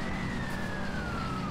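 A police car siren sweeps steadily in the video game Need For Speed World, a continuous wailing tone sliding slowly downward over a dense rumble of engine and road noise, loud and close, with no talking.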